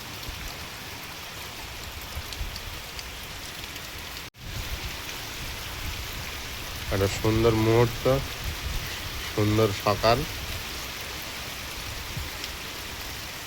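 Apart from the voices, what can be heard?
rain falling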